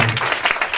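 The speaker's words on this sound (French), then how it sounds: "Est-ce qu'on peut acclamer Jésus?" A church congregation at a Sunday service applauding in praise of Jesus, a brief burst of dense clapping close by with no voices over it.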